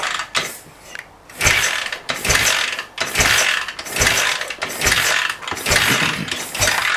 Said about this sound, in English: it's just a case of using the Kickstarter, and then I'll just pump it up till I get the maximum on this gauge